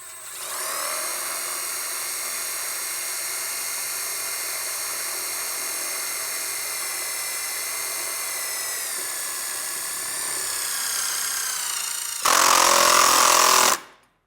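A power drill drives silver self-tapping screws into an awning extension rod on a Solera RV slide-out awning, a steady loud whine holding for about twelve seconds, then a brief harsher, louder burst as the screw seats, with no talking.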